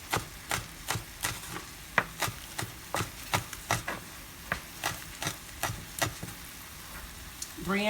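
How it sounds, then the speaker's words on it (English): Knife chopping through a hefty carrot on a cutting board, about fifteen crisp, evenly spaced cuts in a steady rhythm, close and fairly quiet, with no talking. "cut off Mr. Carrot Top. Slice him down the middle."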